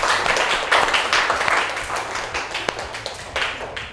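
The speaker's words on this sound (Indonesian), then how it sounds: "Tepuk tangan untuk kita." Students in a classroom clap their hands together in a brief burst of fairly loud, dense applause that tapers off over a few seconds.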